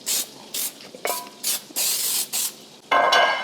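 A can of cooking spray greases a baking dish in a home kitchen, with a series of short hissing bursts and one longer spray at the end, close and loud with no talk.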